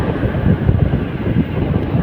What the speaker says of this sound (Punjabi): ਆ ਗਈ ਟ੍ਰੇਨ ਟ੍ਰੇਨ ਦੇਖ ਲਓ ਟ੍ਰੇਨ ਲੰਘਦੀ ਆਪਣੇ ਪਿੰਡ ਵਿੱਚ ਦੀ